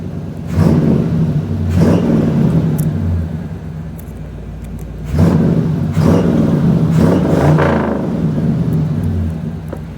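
A new small-block Chevy 350 V8 revs hard in two long bursts, rising to a loud throaty roar and dropping back to a low idle rumble between them, with no talking.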